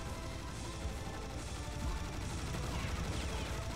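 Continuous video-game gunfire from Serious Sam HD during a co-op boss fight, a thick, steady barrage of shots and crashing impacts running without pause.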